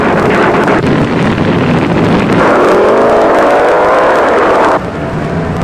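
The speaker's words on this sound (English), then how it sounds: "cars get off beautifully, but Denny Darrell gets there first in the Ma and Pa car" Drag racing cars launching hard down a dragstrip in a side-by-side pairing, a loud, continuous roar of broadband engine noise with wind buffeting, swelling and sustained for several seconds before cutting off near the end.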